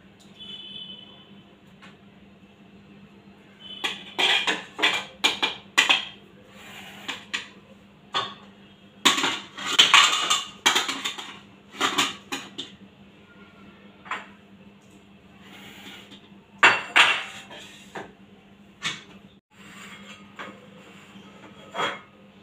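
Dishes and cutlery clink while freshly cooked rice is served at home, scattered bright clatters and scrapes in irregular bursts over a steady low hum, close by and moderately loud.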